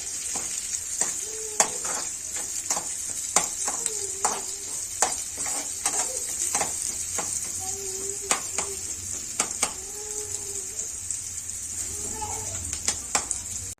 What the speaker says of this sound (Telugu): వాక్కాయ కూడా మంచిగా వేగాక లాస్ట్లో కరివేపాకు వేసుకొని, కరివేపాకు కూడా వేగిన తర్వాత దించుకోవాలి